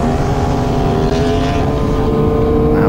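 A Yamaha MT-09 and a Kawasaki ER-6n accelerate hard together. Their loud, close, steady engine roar carries layered whining tones throughout.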